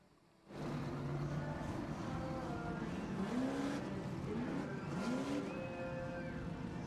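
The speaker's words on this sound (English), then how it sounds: "We got trucks on the track." Off-road super trucks from the Midwest off-road racing series run on a track at a TORC event in Chicago, with engines cutting in abruptly, then droning and revving in rising and falling sweeps, loud and continuous at a moderate distance.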